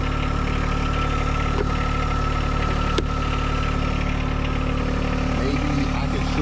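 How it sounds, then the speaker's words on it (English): A tractor engine idles steadily and close by on a yard with a subsoiler hitched, a constant low mechanical drone with faint vibration and no speech over it. "Let's see if we could do it with the tractor."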